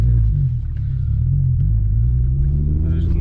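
A VW MK4 GTI, just fitted with a new motor mount and a 1-inch spacer, pulls away, its engine giving a deep, steady rumble close by with no talking.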